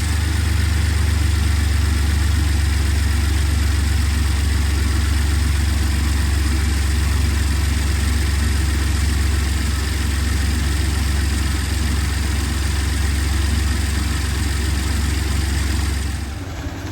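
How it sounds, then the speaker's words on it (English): Ford Expedition engine idling, held at around 1500 to 2000 RPM, a steady low rumbling drone heard close and continuous with no talking. "I tend to hold this thing around 1500 to maybe 2000 RPM, sitting at idle, just to kind of get it warmed up a little bit more"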